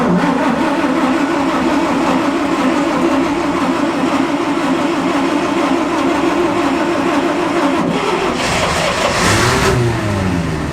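Engine of a vintage Dodge six-cylinder transporter for an Alfa Romeo 8C-35, running with a loud, steady mid-pitched rumble up close, on old fuel, rising slightly near the end.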